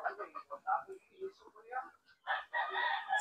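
A rooster crows in a home vegetable garden during the rainy season, a drawn-out call near the end, following a stretch of people talking.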